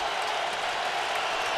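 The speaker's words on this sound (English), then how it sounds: "now for the first time the crowd rises as one" Stadium crowd rising and cheering at a night NFL game between the Indianapolis Colts and Chicago Bears, a dense, steady roar of many voices filling the space with no letup.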